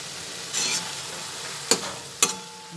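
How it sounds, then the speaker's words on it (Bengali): Chhana (cottage cheese) being stirred into a spice mix in a pan, with soft scraping over a low sizzle and two sharp clinks of the spoon against the pan. "ভালোভাবে মশলার সঙ্গে মিশিয়ে দিলাম"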